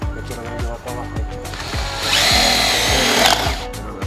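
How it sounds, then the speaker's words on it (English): A power drill drives a self-tapping screw into a PVC pergola post, with loud close whirring and stuttering bursts throughout. A rising, straining whine builds in the middle stretch before easing off. "going to use a self-tapping screw to screw the pergola into the post"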